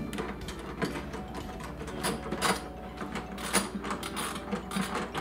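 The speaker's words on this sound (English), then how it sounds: "Then I'm going to take my 9/16 socket. I'm just going to tighten these up." A hand ratchet with a 9/16 socket clicks in quick irregular bursts while tightening the mounting nuts of a leather saddlebag on a Harley Softail Street Bob, close and fairly quiet.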